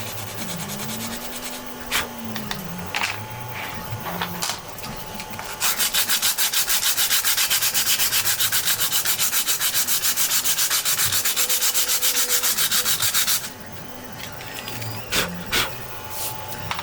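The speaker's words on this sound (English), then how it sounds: "Now with the white we can sand more confidently, but not the black, because the black you can see the scratches" A 3D-printed plastic katana sheath with white and black parts is sanded in a steady, loud, rapid scratching stretch of about eight seconds, framed by quieter scrapes and handling noises before and after.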